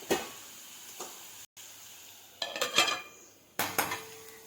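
Metal lid set onto a cooking pot of onions and garlic paste, several close clanks and rattling scrapes separated by short pauses, with faint sizzling underneath.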